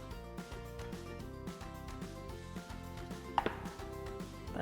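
A knife chops bananas on a cutting board for a smoothie: a steady series of crisp, close chops, with music playing underneath.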